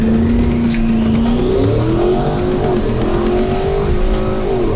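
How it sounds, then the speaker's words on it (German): A Porsche Cayenne GTS 4-litre V8 engine, 460 hp, revs up loudly, the pitch climbing through the gears in a sustained roar close by. "Wieder mit einem V8 am Start, das heißt 460 PS, 4 Liter Motor"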